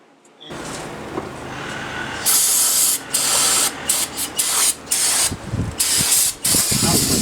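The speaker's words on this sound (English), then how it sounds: "I'm going to spray some carb cleaner in there." Carb cleaner blasted from an aerosol can into a Porsche 911 front wheel hub during a bearing job: a loud, close, continuous hissing spray broken into several bursts of varying length, with no talking.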